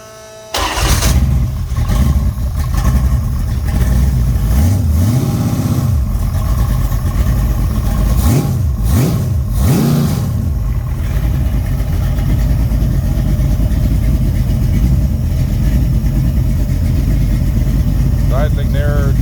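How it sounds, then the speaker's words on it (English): A 408 Mopar stroker V8 with Speed Master heads in a 1970 Dodge Dart cranks and fires, then settles into a loud, steady idle, with a few throttle blips along the way. "So, let's start her up here."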